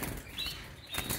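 Birds flapping their wings in a short burst outdoors, a fluttering whoosh of wingbeats set against background noise.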